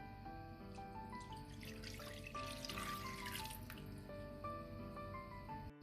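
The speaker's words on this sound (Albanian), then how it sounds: "Tani mbi majën e bukës dhe sheqerin do shtoj 300 ml qumësht" Lukewarm milk, 300 ml, is poured onto yeast and sugar for croissant dough, making a continuous gurgling pour with a rising, bubbling tone. The sound is faint and close.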